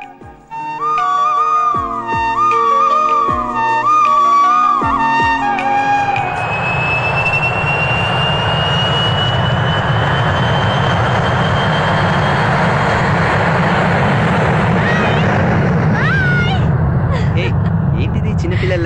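After some opening musical tones, an airplane's engine roar swells in and holds as a loud, sustained rushing drone with a faint rising whine, continuing to the end.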